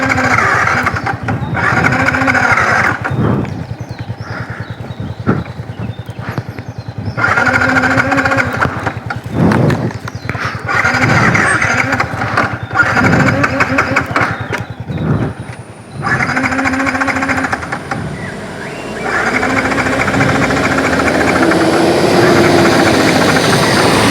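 A Yamaha MT15 motorcycle that broke down near Athirapally is cranked repeatedly. Several bursts of the starter and engine turning over are broken by short pauses, then the engine runs steadily near the end.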